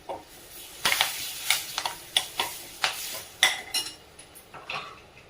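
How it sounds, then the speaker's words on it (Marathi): A spatula scrapes and taps in a pan with a faint sizzle as curry leaves go into roasted gram flour for a French bean stir-fry; about a dozen sharp, irregular clinks and scrapes, close and fairly quiet, with no talking. "त्यामध्ये कढीपत्ता टाकून घेऊया."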